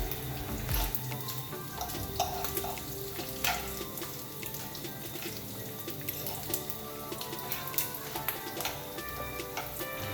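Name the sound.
pork frying in a skillet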